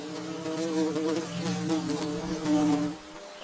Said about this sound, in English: Tiny insects appeared flying above plants, feeding on the first leaves, carrying pollen unknowingly.